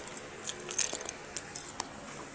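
A set of keys jangles in several short, bright bursts, fairly close and moderately loud, with brief pauses between the clinks.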